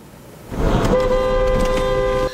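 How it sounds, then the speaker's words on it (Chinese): A car horn gives one sustained, loud, close honk lasting nearly two seconds over road noise, in traffic where a driver honks at a car cutting in too closely from the right. "驾驶用力按喇叭"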